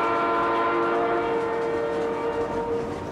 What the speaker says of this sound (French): Il est là, un coup de klaxon.